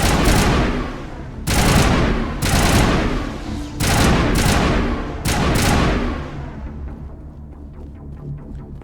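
Mass Effect gunfire in heavy repeated bursts, loud and close, with several rapid volleys and booming echoes fading into a lower rumble at the end.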